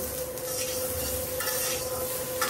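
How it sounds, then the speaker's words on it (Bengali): Potato and eggplant fry in a pan, a quiet, steady sizzle of oil with soft stirring scrapes and small utensil taps, close by and without speech. "আর এই যে আলু আর বেগুনটা একটু ভাজা নিতে আছি।"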